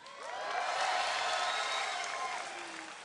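At the StarCraft II Grand Finals at BlizzCon 2010, an arena crowd cheers and whoops for a finalist. The roar swells quickly, holds loud for a couple of seconds, then fades away.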